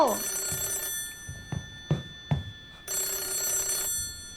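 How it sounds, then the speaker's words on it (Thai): An electronic telephone bell rings in two long bursts in the video game Hollow Cocoon, with quiet footsteps or thuds in the pause between them. "มีเสียงโทรมาอีกแล้ว"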